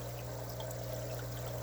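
Aquaponic flood-and-drain grow bed siphon draining water, a steady low gurgling and trickling flow, faint and continuous over a short stretch with no voices.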